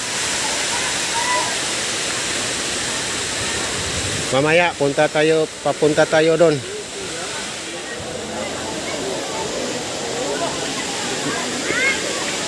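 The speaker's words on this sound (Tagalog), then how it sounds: "Dito gagaling yung tubig sa bundok." Mountain spring water pours down falls at Badiang Spring Resort with a continuous, close rushing roar. Someone speaks briefly over the steady torrent partway through.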